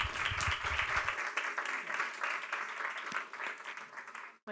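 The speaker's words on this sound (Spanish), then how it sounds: "un aplauso para Vicky." An audience applauds a speaker at a cultural event with dense, steady clapping throughout that stops abruptly at the end, with some low voices at the start.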